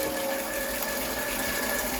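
Hot water runs steadily from a household tap in a house being cleaned, making a continuous close rushing hiss with no pauses and no voices.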